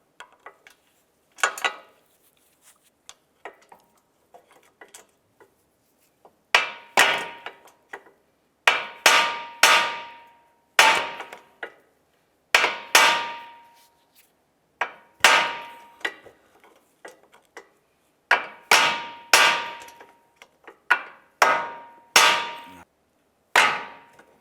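Repeated sharp metallic hammer blows strike a Honda Civic lower control arm to knock its ball joint loose, coming in close, ringing clusters separated by short pauses.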